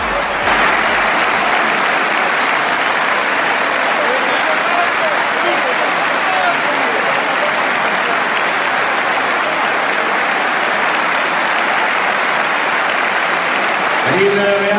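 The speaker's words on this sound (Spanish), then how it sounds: "veamos cómo fue aplaudido CR7 por la afición bianconera tras su gol de chilena" Juventus supporters in a stadium applaud and cheer Cristiano Ronaldo after his bicycle-kick goal, a dense, steady roar of clapping from a large crowd that holds at full volume throughout.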